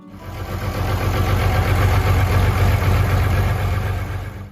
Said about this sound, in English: The Oliver 1655 came along at a time when utility tractors were getting more capable